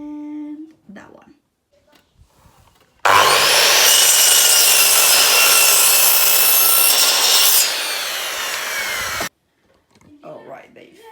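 A wooden board being cut shorter with a power saw: a loud, continuous buzzing rasp for about six seconds, easing slightly before stopping abruptly, with quiet talk before and after.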